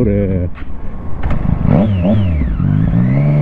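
A Triumph Street Triple 675 motorcycle exhaust, loud and close, idling then briefly revving up and settling back, with a voice talking over the engine.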